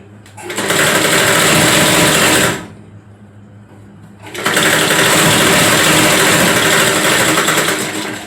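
A sewing machine stitches a blouse in two loud, steady runs of rapid mechanical whirring, split by a brief pause in the middle.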